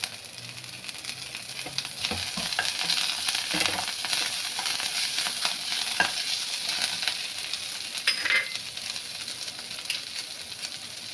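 Green chillies sauté in hot oil in a pan for a quick tomato sabzi, giving a constant crackling sizzle broken by scraping stirs and occasional louder pops, with no talking.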